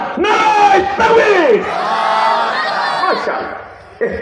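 A crowd at a religious gathering shouts a slogan in unison for the police, several loud massed voices rising and falling in bursts, then a fresh shout starting at the end.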